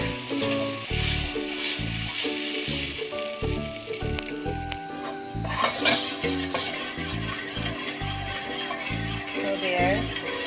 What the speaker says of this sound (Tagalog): we pour in a little oil. And then, a chunk of butter.